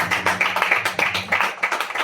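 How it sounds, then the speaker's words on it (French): A church congregation at a Sunday sermon claps together in a brisk, steady rhythm, loud and close, with many hands striking in unison beat after beat. "applaudissez pour le Seigneur."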